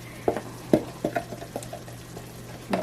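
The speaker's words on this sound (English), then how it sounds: "I'm gonna mix it, and I'm gonna add my sofrito, my homemade sofrito" Homemade sofrito is stirred into a pot of ham soup, with a run of soft, irregular scraping and clinking stir sounds over a quiet sizzling, simmering bed.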